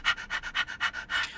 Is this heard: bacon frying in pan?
no